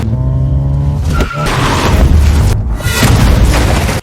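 A car flips through the air in a film chase and strikes another car, with roaring engines, squealing tires and heavy crashing impacts, loud and continuous.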